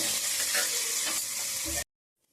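Spices crackle and sizzle loudly in hot oil for a desi chicken curry, a close, continuous frying hiss with stirring that cuts off abruptly into silence.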